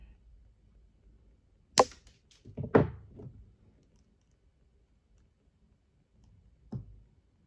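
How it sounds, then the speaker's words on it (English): Jewelry wire being trimmed and pinched for a twisted wire wrap, a few sharp close clicks and snips in a quiet room, with a final click a few seconds later. "I'm just going to trim it a bit more and then pinch it in."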